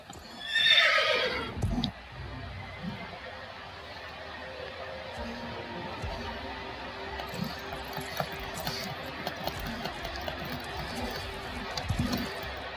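A horse in the video game Star Stable gives a loud, close whinny at the start, then quieter clip-clop hoofbeats and small game sounds continue underneath.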